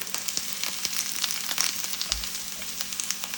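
Carrots, onion and zucchini sauté in a hot pan, giving a steady close sizzle with crackling pops scattered throughout and a brief low clunk midway, as for a vegetable lasagna filling; no one speaks.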